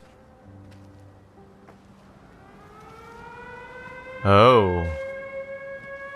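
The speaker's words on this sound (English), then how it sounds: "There's that air raid siren we'd heard about earlier." An air raid siren sounds inside the game Everybody's Gone to the Rapture, a loud wailing rise that swells suddenly over a quiet ambient background, with a brief voice exclaiming alongside it.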